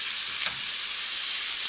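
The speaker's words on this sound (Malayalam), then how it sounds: "നമ്മൾ അങ്ങനെ ഇടയ്ക്കിടയ്ക്ക് ഒന്ന് ഇളക്കി കൊടുക്കണേ." Kerala-style canned fish thoran (meen peera) fries in a pan, giving a steady bright sizzle while a spoon stirs it, with one soft scrape of the utensil and no voices.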